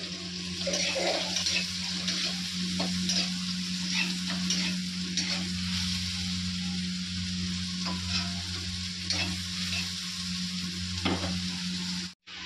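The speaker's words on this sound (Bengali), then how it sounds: "এখানে সয়াবিনটা ভাজা বসিয়ে দিয়েছি" Soybean chunks sizzle and crackle steadily in hot oil close up, with occasional stirring scrapes over a constant low hum.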